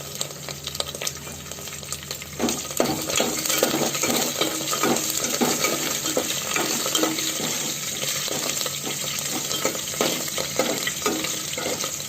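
Curry leaves fry in hot oil for a Telugu ridge gourd chutney, a dense steady sizzle and crackle with occasional stirring clinks of a utensil against the pan, close and continuous, no talking.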